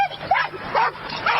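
A dog gives several short, high yipping barks and whimpers in quick succession, fairly close and moderately loud, over a steady background hum.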